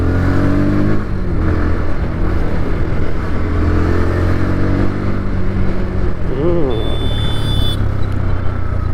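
Road traffic in Sivakasi city, with two-wheelers and other vehicles passing close by. Engines hum and rev continuously, a short horn-like tone sounds near the end, and people talk over the noise.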